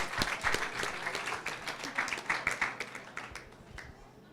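Cheering crowd at an Ironman South Africa 2019 race welcoming a US pro female triathlete, with dense rhythmic clapping and brief loud peaks, fading toward the end.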